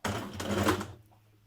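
A sewing machine stitches a seam on an occasion-wear dress, a short, close burst of rapid mechanical whirring and clatter lasting under a second before it stops.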